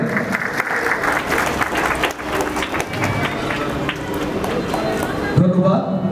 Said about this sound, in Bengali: সবাই করতালির মাধ্যমে তাদের উৎসাহ জানাবে।